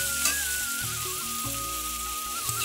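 Masala sizzles steadily as it is sautéed in a pan, a continuous crackling hiss that runs through the whole moment. It sits over a background of steady tonal music, with no talk.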